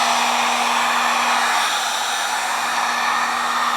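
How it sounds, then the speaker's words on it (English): A heat gun blows steadily at close range while warming the surface of a faded plastic motorcycle fender, a loud, even hiss with a faint constant hum beneath it, heard alone without any talk. "turn on your heat gun and start slowly heating the surface of the fender"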